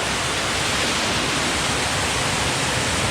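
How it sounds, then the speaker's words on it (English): A steady, dense rush of falling water, broadband and unchanging, like a small waterfall close by with no voices. "That's a nice little waterfall."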